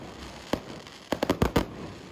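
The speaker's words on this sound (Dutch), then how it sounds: "En waar vuurwerk niet alleen wordt afgestoken tijdens de jaarwisseling, maar ook op een voor ons doodgewone zaterdag." Fireworks set off on an ordinary Saturday, not at New Year: one sharp pop, then a quick cluster of five or six crackling bangs at moderate distance.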